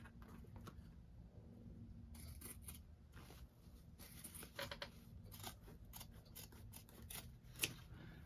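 Scissors snip and trim fabric seams while a bag is being made, with a run of quiet close-up cuts and slight rustling of the material in a calm room.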